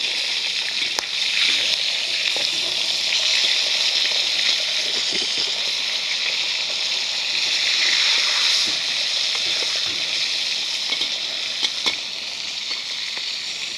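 A halved fish head pan-frying in oil, giving a steady bright sizzle and crackle that holds for the whole stretch with small pops here and there, close and fairly loud.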